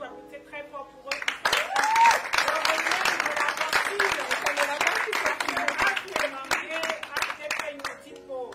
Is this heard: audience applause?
yes